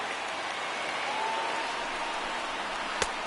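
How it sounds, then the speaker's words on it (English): A baseball stadium crowd cheers in a video game during a late rally, a dense, steady roar of voices and applause that holds evenly throughout, with one brief sharp sound near the end. "listen to this crowd now. They are really into this."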